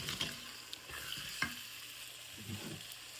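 Water goes into a sizzling pan of oily brinjal gravy, bringing a loud hiss that settles into a softer, steady sizzle with a few clinks of stirring.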